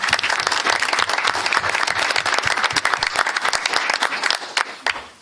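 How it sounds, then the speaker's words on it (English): A crowd claps enthusiastically, the applause loud and continuous before thinning out and fading at the end. "Again, round of applause."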